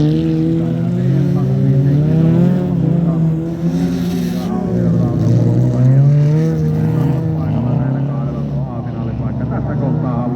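A Volkswagen Beetle race car drives in a winter youth championship race, its engine droning and shifting in pitch as it runs continuously beneath a commentator's loud talk.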